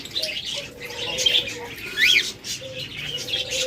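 Small caged parrots such as lovebirds and cockatiels chirp and tweet in a bird seller's shop, several short high calls scattered over steady background noise, with one brighter call standing out midway.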